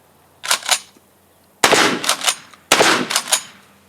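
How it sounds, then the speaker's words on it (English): A 12 gauge shotgun fired at late medieval armor, with one short loud blast followed by two longer, heavier booming shots, each carrying a rolling echo before it dies away. "First shot out, 12 gauge."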